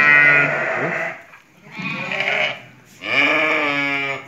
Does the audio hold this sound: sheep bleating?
yes